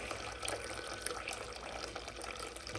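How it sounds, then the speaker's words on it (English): Hot water running steadily through a beer keg hose connector after a sanitizer rinse, a constant close hiss and gurgle of flowing water with no pauses. "now I'm running hot water through it, clean all the star sand out"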